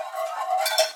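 A milk and cream mixture being stirred in a pot for a frangipane filling, a utensil scraping and lightly clinking against the pot in a steady close scrape lasting about a second, no talking.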